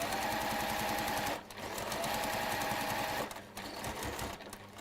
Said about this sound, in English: I would sew in the base first.